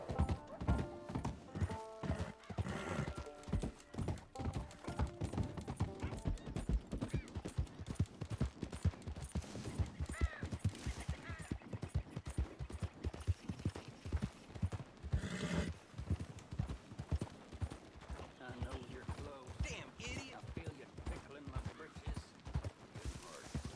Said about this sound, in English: Oh, something scared my horse.